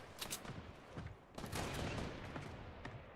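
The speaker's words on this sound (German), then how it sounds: "Oh, ich werde aber beschossen. Ah, bei mir innen. Ah, das ist so ein 3-Schuss-Automat." Automatic gunfire in Fortnite, a three-round burst weapon, crackles in quick clustered shots at moderate distance, several bursts spread across a few seconds over faint game ambience.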